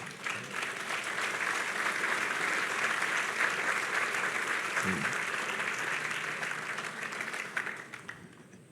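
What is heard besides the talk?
applause from a church congregation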